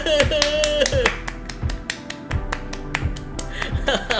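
Sharp hand claps ring out in a quick, uneven rhythm, loud and close over Genshin Impact game music and some chatter.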